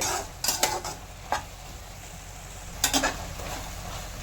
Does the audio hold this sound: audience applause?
no